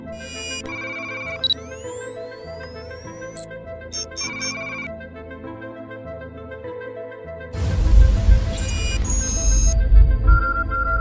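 Phone ringing with an incoming call, a loud electronic ringtone melody repeating in bursts, then joined by a louder busier stretch of music toward the end.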